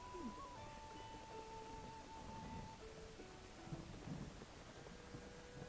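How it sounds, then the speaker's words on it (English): Rumbling thunder with steady rain and light wind in the open-world game Zelda: Breath of the Wild, a continuous stormy wash with a few faint tonal game cues over it. "I'm assuming that was supposed to be lightning"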